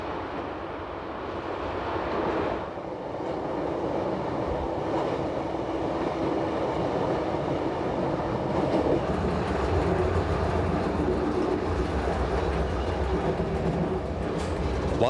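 An SBB train climbs the Gotthard north ramp toward Göschenen station, 1,106 metres up. Heavy, continuous rail rumble carries rhythmic clickety-clack of the wheels and swells slightly as it goes, with no talk.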